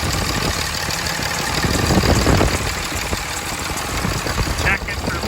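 A freshly rebuilt 2007 Cummins 5.9 diesel idles steadily with a dense, continuous rumble and clatter, close and loud throughout, with faint speech-like sounds mixed in.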